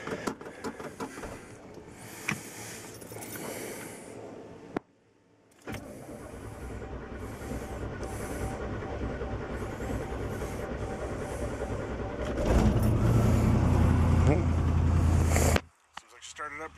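An old carburetted car engine with an Edelbrock carburetor cold-starts on a cool morning: starter cranking, a brief pause, then the engine catches and runs loud and rough close by, revving higher near the end before cutting off, with someone talking early on.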